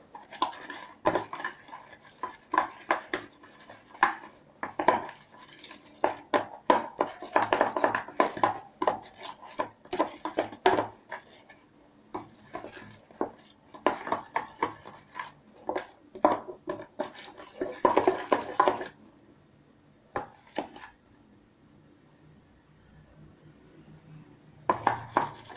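Slime is stirred in a bowl, giving a close series of uneven wet clicks, scrapes and taps. They come in irregular bursts, then taper off near the end.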